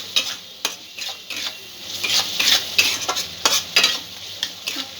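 A spoon stirs chicken with coriander powder and chicken masala in a pan, sizzling steadily with repeated scraping strokes close up; no voices.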